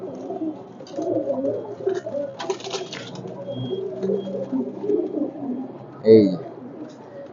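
Giribaz pigeons coo softly and repeatedly in a loft among other pigeons, low throaty calls close by, with a person speaking quietly and a brief louder thump near the end.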